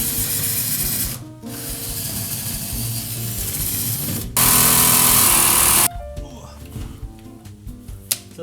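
A power drill enlarges four pilot holes in a panel to let a saw blade pass, running in a couple of steady loud bursts amid shop noise, with voices nearby.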